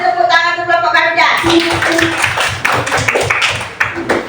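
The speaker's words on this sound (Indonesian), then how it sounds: "Kelompok beri tepuk tangan untuk kelompok Garuda." A classroom group claps for another group of pupils, a ragged burst of hand claps following a sung or spoken voice at the start, with some chatter mixed in.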